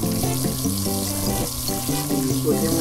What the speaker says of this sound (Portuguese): estamos fritando uma pizza